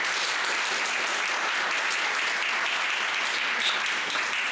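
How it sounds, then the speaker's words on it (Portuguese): Dense, steady audience applause at a pitch presentation, many hands clapping loudly and evenly throughout with no break. "Agora eu quero que vocês aplaudam como vocês querem ser aplaudidos."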